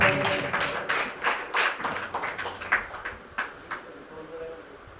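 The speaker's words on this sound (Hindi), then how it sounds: "एक बार जोरदार तालियां" Applause from the audience at a kavi sammelan poetry gathering: a round of hand clapping, irregular and moderately loud, tapering off over the last seconds, with a voice faintly under it.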